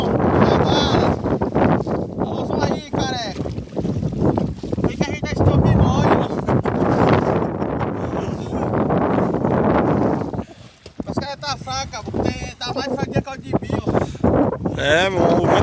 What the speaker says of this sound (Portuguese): o vento já era louco